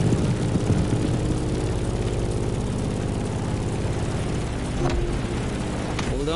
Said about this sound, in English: In the cockpit of a stunning Grumman F-8F Bearcat, or simply the Bear.